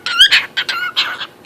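A pet cockatiel squawks and chatters in a string of loud, close, bright chirps and whistles, several bursts with short pauses between them, no talking.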